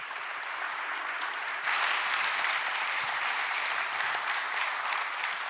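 An audience at a government planning committee's public report event applauds, steady dense clapping that swells slightly louder partway through and continues evenly, without speech over it.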